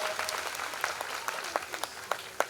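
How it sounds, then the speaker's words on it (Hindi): Scattered clapping from a faint, distant audience at a Shiv Mahapuran religious discourse gathering, with uneven individual claps standing out from a soft wash of applause. "तो उनके लिए भी आप लोग तालियां बजाओ"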